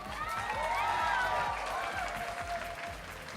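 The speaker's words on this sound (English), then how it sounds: "Let's have a clap for Trafalgar." Audience applause at a cosplay masquerade at Cyprus Comic Con, steady clapping from a crowd held at a fairly even level for the whole stretch, with a tonal whine and background sounds running through it.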